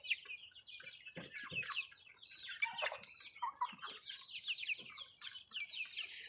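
A flock of young farm chickens, fed on yellow corn, clucks and chirps continuously, with overlapping calls from several birds close by and no talking.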